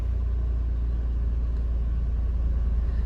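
A Toyota Matrix/Corolla engine idles steadily in drive during an idle relearn after a battery disconnect, giving a low, even rumble that holds constant throughout with no talking.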